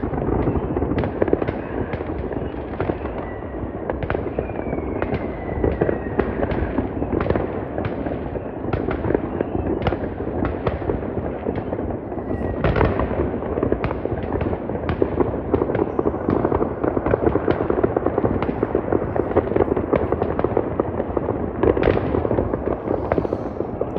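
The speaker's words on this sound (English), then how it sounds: "A lot of fireworks." Dense, continuous New Year fireworks crackle and boom for the whole stretch, many bursts overlapping at a distance with sharper pops standing out now and then.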